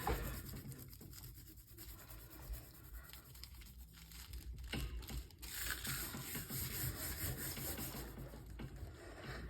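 Metallic paint is rubbed through a stencil, giving a faint scratchy rubbing and crinkling texture with small irregular scrapes that swell a little louder toward the end, close by and without talk.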